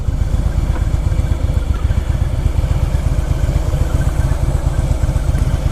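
A motorcycle engine runs close by in a steady, rapid pulsing chug that holds an even idle throughout, with no voices.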